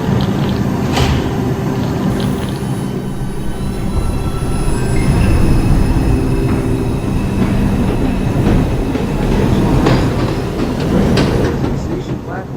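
A Manhattan-bound R142 local subway train on the 6 service pulls out of Van Siclen Avenue station on the 4 line in New York, its motors and wheels rumbling loudly with squeals and clatter building as it departs.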